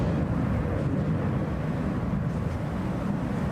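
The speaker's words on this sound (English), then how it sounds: "This is American Airlines Flight 1008 headed for Dallas." An American Airlines Airbus A321 climbing out after takeoff from Atlanta's Hartsfield-Jackson airport, heard as a constant, broad, low engine roar with no break or rise.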